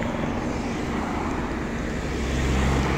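A helicopter flies over the Vuelta a España stage 20 cycling race near Porriño, making a steady, loud, broadband rumble that holds without a break and swells slightly toward the end, with no talking.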